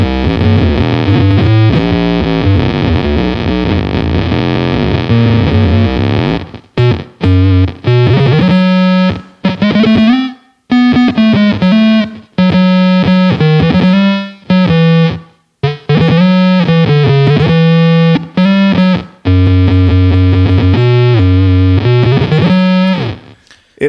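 A single guitar note is played through an MXR Blue Box fuzz pedal, loud and heavily distorted with wavering octave harmonics, repeated in stuttering bursts separated by short silences.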